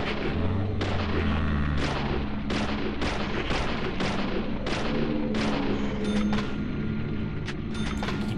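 Heavy shots boom at a steady rhythm in the Deadly Premonition Origins video game, about a dozen evenly spaced blasts over a continuous low background.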